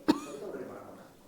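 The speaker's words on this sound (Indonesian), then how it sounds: "Maaf Ibu, batuk-batuk." A single short cough sounds close by, followed by a faint breathy trail and quiet room tone.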